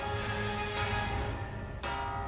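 A bell summoned in the video game Ratchet and Clank: Rift Apart rings out as a loud, sustained metallic tone that holds steady throughout, with a brief dip near the end before resuming.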